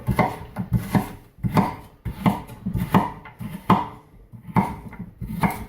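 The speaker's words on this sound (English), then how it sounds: "And just cut it into small pieces." A sharp knife chops fresh fish into small pieces on a board for homemade fish food, with quick close taps in an uneven rhythm, several strokes in a row and short pauses between them.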